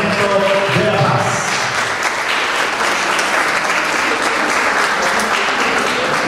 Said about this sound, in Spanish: Recibimos con un fuerte aplauso al ingeniero Oswaldo Moreno, vicegobernador del Departamento de La Paz.